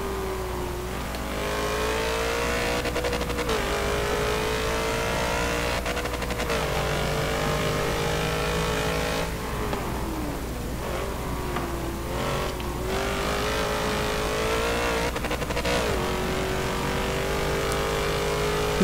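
Race car engine in Forza Motorsport 7, a Nissan GT-R34 racing at Hockenheimring, droning loudly and steadily with repeated rising revs and gear shifts, continuous throughout without speech.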